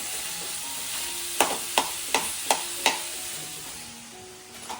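A spoon scrapes through peanuts and salt in a hot pan, five sharp rhythmic knocks against the metal above a steady soft sizzle, with no talking.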